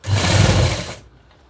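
A sewing machine runs in one quick, loud whirring burst while stitching piping onto a blouse neckline, then stops abruptly, leaving a quiet room.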